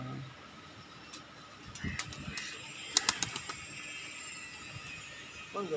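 Pigeons in a loft coo softly at close range, with a cluster of brief clicks and flutters midway over a low background hum.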